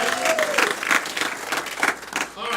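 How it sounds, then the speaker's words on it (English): An audience claps for a contestant at a live event, uneven bursts of applause rising and falling, with voices and cheering mixed in. "Clap for Brandon."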